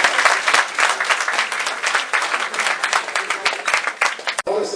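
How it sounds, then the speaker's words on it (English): An audience at a reunion gathering in Birmingham claps in sustained, dense applause that swells and fades in waves before breaking off near the end. "I want you to give a really big round of applause to Akeel"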